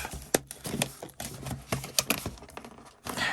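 A knife saws through the cardboard and tape of an SCX24 Jeep Rubicon RC box, making rapid, close scraping and ripping strokes in an uneven rhythm with sharp snaps between them and no voices.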